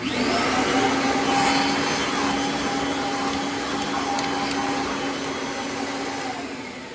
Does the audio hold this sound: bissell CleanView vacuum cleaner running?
yes